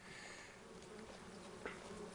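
Steady swarm of bees buzzing continuously in the Farming Simulator 25 farming game, a dense unbroken drone at moderate level with no talk over it.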